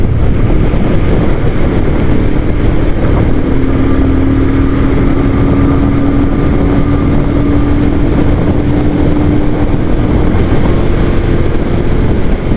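Steady engine drone of a Royal Enfield Himalayan Scram 411 motorcycle at highway speed with heavy wind rush, a rising tonal whine from the motor as it cruises, continuous and close with no talking.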